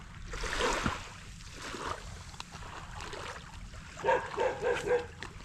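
A dog barks a few times at a distance over steady rumbling engine and water noise, with the last barks coming in a quick cluster.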